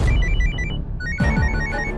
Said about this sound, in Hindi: एक मिनट है, फोन आ गया।